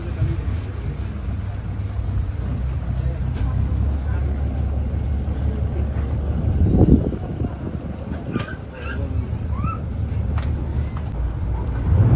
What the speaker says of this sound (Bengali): আমাদের বোট ছেড়ে দিয়েছে একদম ওয়ান টাইম।